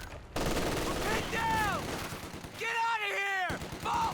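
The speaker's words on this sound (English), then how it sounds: "Rocket's still coming in at the same pace." Rocket artillery barrage in Company of Heroes 2, a steady run of explosive impacts and whooshing launches at a constant pace, with whistling tones over a dense battle bed.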